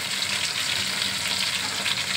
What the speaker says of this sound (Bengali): ফিশটাকে ভাজাবার জন্য ওইটার গায়ে মাখিয়ে এই ভাজা হচ্ছে